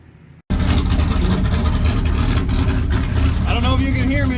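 Camaro V8 engine rumbling loud and steady as the car is pulled out of the garage after a sub-frame connector install, starting abruptly after a brief quiet moment, with a few faint higher whines near the end.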